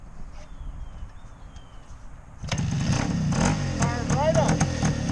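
A 1971 Yamaha RT360 vintage two-stroke motorcycle starts up on a test ride, its buzzing, rising engine cutting in abruptly midway and staying loud and close, with a voice talking over the sound.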